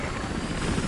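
Helicopter flying in Battlefield Hardline multiplayer on PS4, a loud, dense, continuous rotor and engine roar filling the whole brief moment, with no talk.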